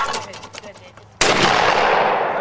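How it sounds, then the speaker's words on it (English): A loud, sharp shotgun blast during grouse hunting with a bird dog, preceded by a quieter rustling, scraping stretch and followed by a long, echoing decay. "that was some pretty good shooting"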